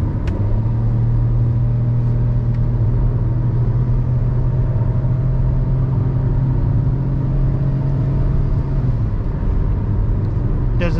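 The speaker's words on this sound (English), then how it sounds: "There's a certain joy to spinning a naturally aspirated petrol engine." A Ford EcoSport with a 1.5-litre naturally aspirated petrol engine and automatic gearbox drives along the road, its engine humming loudly and steadily with a deep rumble, the pitch holding even for most of the run.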